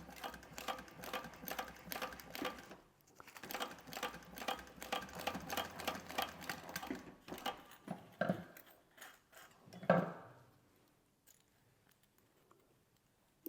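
A Thor GE 0617C 3D printer prints flexible TPU filament with a steady, rhythmic mechanical buzzing and ticking of moving motors. After a louder knock the sound drops away to near quiet.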